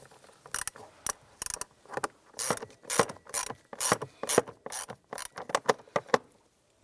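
Ratchet with a swivel and extension tightening the screws of a blower motor assembly on a 2015-2020 Cadillac Escalade, giving close, dense bursts of rapid clicking in a steady run of strokes with brief gaps between them.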